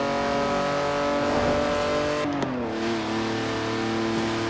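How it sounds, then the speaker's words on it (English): An over-revved straight-six car engine in Forza Horizon 4 revs hard with a sustained high whine, then the pitch drops sharply as it shifts, continuing at a steady loud drone. "that's a rather exuberant noise for a straight six"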